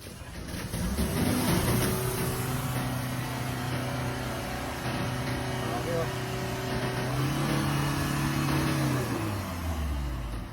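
A Mitsubishi Montero engine, smoky and low on power, revs up and holds a steady drone, rising and easing in pitch, with voices speaking over it.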